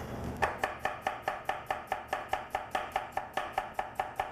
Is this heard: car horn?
no